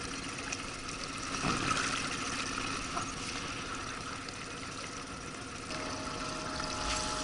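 Outboard motor on a small fishing boat on the Amur River, steered by foot on the tiller, running steadily at a low idle with a faint watery churn, fairly distant and even throughout.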